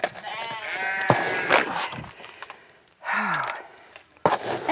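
Goats bleat on a farm in several harmonic, wavering cries, some overlapping, with pauses and a few soft thumps between calls, fairly close and alone without talk.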